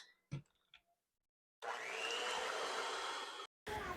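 Eggs and coconut oil beaten together with an electric mixer, a steady loud whirring drone lasting about two seconds, a brief stop, then the motor running again, after a few faint clicks.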